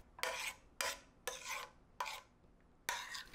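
A spoon works cold butter cubes into a Madeira wine sauce in a pan, five rhythmic scraping strokes, close and clear, with short pauses between them and no talking.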